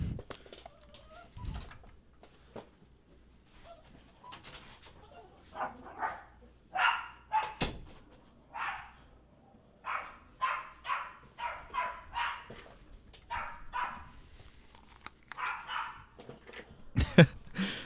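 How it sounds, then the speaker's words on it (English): Dogs bark indoors at home, a series of short, sharp barks that come faster toward the middle and end, fairly close, with a few brief knocks and faint background noise between them. "Let me let my dogs out."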